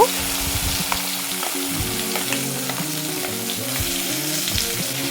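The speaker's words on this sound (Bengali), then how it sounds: "এখানে আমি গরম তেলের মধ্যে 1 টিস্পুন কালো জিরে নিলাম" Black cumin seeds sizzling and crackling in hot oil in a pan, a dense, continuous fry with steady close popping throughout.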